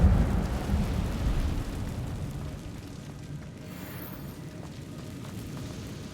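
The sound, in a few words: Incendio fire spell in video game Hogwarts Legacy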